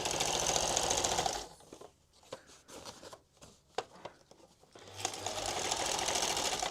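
A sewing machine runs in a loud steady whir while stitching a box cushion for a Transit Connect van bed, pausing briefly for a few clicks and knocks before whirring again.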